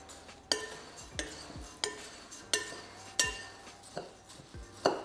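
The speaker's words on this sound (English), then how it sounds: "Mix all your dry ingredients first, just so that you can get those spices coating your oats" A spoon clinks against a bowl as dry granola ingredients, oats and spices, are mixed, striking in a steady rhythm of about eight sharp taps with soft rustling between them.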